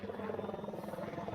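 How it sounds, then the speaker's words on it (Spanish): Helicopter rotor in a Nintendo Direct game trailer for Splatoon 3, a steady fluttering drone that holds at a moderate level, with faint voices underneath. "Un helicóptero."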